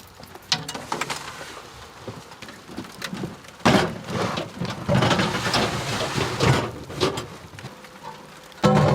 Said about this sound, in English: This is the first time it rained in like months.